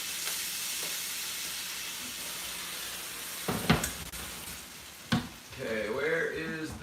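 Food in a pan sizzles with a steady hiss, and two sharp louder bursts come as water is added. A voice speaks briefly near the end.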